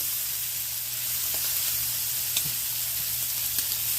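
String beans sizzling as they brown in a pan for hoisin shrimp, a steady close crackling hiss with a few light utensil taps and no voices.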